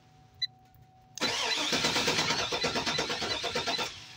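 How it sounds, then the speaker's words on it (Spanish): Starter motor on a 2003 GMC Denali cranking roughly, a loud close whirring chatter with rapid uneven pulses lasting nearly three seconds after a faint click, then cutting off abruptly without the engine catching. "Está estallando muy feo el motor de arranque"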